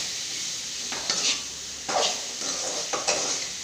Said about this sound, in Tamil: வத்தல் பொடி ரெண்டு ஸ்பூன் வதக்கணும்